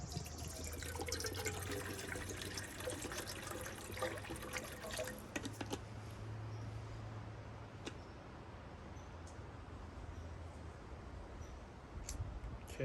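Water is poured into a pot to make beef stew at a forest day-hike campsite, a faint trickling fill heard close and quiet over soft background noise, with a few small clinks.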